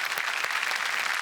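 A studio audience at a Marathi TV comedy show applauds, a dense, steady wash of clapping throughout the brief moment.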